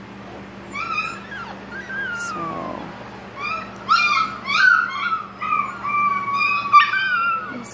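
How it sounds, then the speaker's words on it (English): Six-week-old puppies in a kennel whimper, yip and howl in overlapping high-pitched cries, a few near and some farther off, with a brief spoken word among them. "we got some puppies over in the other kennel that are very unhappy with me right now"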